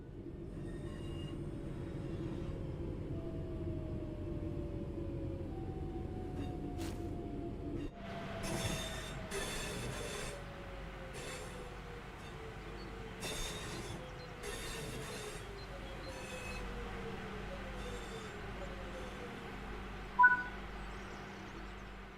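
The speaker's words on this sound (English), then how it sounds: "Now that the train has stopped," A train in a simulator game brakes to a stop, its wheels squealing in long falling tones over a low rumble, then a series of sharp clunks and clicks as the cars settle, with no talking.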